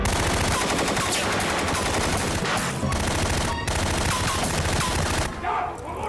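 Gunfire fills a scene from the 2001 Mexican film Narcos y Perros, with sustained automatic bursts and overlapping shots that stay loud and dense throughout. It dies down briefly only near the end.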